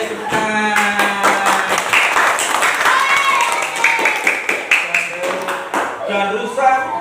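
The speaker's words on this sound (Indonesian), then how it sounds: "Ayo tepuk tangan." An audience at a children's storytelling reading claps in a fast, continuous patter of sharp hand strikes lasting several seconds, with voices speaking and calling out over the clapping.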